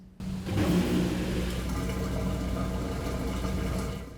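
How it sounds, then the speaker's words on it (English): A washing machine drain pump starts suddenly during the rinse cycle, a steady, soft mechanical hum running continuously, a low droning pump sound with faint watery noise beneath it. "You'll hear the sound of the drain turning on. It's like a soft humming sound"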